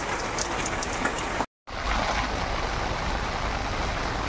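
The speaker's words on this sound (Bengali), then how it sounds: "এই সন্ধ্যাবেলা বৃষ্টি এসে গেল" Evening rain in the Sundarbans falls as a steady, fairly loud hiss of drops on surfaces, broken by a brief silent gap, with no one talking.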